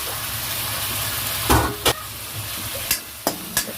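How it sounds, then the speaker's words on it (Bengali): Ginger garlic paste frying with onion paste in a pan, a low continuous sizzle broken by several sharp scraping clatters of a spatula stirring. "ভালো করে ভাজতে হবে।"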